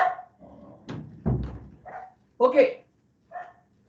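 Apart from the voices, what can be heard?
dog barking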